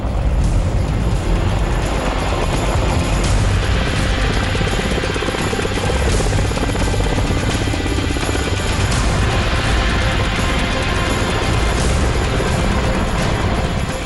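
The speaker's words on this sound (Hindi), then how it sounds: "आसमान में अपाचे हेलीकॉप्टर गरज रहा था" An Apache military helicopter roaring loudly and continuously overhead during a military exercise near Pangong Lake in Ladakh, a dense, steady rotor thrum that fills the whole stretch without letting up.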